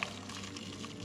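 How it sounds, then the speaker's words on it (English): Simmering beef broth poured over a venison blade roast, a soft continuous liquid pour with faint bubbling, quiet and brief. "Now we are gonna take some simmering beef broth and cover it about 2/3 of the way up"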